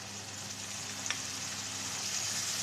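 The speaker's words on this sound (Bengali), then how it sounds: "পেঁয়াজ বাটাটাও একটু ভেজে নেব।" Onion paste frying in oil for mustard hilsa, a faint, steady low sizzle with one brief tap partway through, and no voices.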